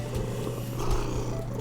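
Close, steady purring from an elderly domestic cat forms a low, rough rumble that pulses gently and carries on without break, with no one speaking.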